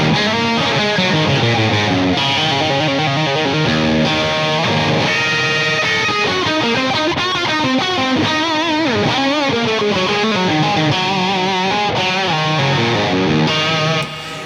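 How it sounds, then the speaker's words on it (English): Electric guitar lead line played through an Ultraphonix overdrive pedal, a loud, saturated, singing tone with sustained notes and fast melodic runs that continue steadily on their own. "Then we go into the Ultraphonix, which is my main lead tone for a long time."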